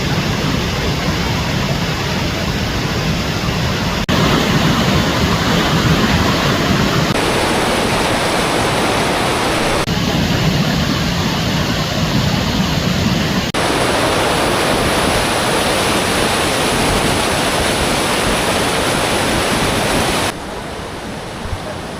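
Glacier meltwater rushes through a stream near a glacier viewpoint, a loud, close, continuous roar of flowing water that holds steady throughout, with slight shifts in its tone and no voices.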